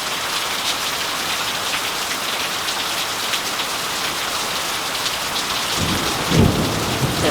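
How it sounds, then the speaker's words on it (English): Steady heavy rain falls throughout, and a low thunder rumble swells near the end, close and fairly loud, with no talking. "Here comes some more thunder."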